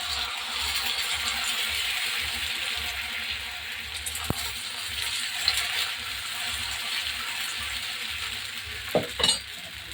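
Dosa batter spread over oil on a hot pan gives a continuous, fairly quiet hiss and crackle, close by, with a few sharp scraping clicks of a utensil and no speech.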